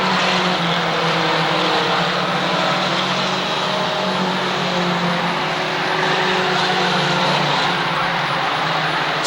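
Mini stock race cars roar around the Waterford Speedbowl oval in 1992, a loud, unbroken wash of engine noise with no pauses and no voices.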